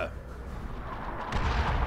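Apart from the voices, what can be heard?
artillery strike explosion in Dawn of War 2 video game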